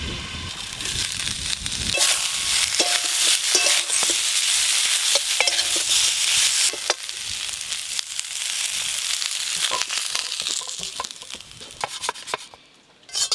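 Cauliflower frying in a pan over an outdoor fire on a windy day gives a continuous close sizzle, broken by repeated scraping stirs of the utensil, with no talk.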